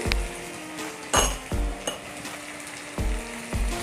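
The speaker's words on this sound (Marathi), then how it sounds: "याच्यामध्ये तेलामध्ये परतून घ्यायचं टमाट्याला मसाल्याबरोबर" Tomatoes fry with masala in hot oil for misal, a steady sizzle broken by repeated clinks and scrapes of a spoon stirring against the pan, close and clear.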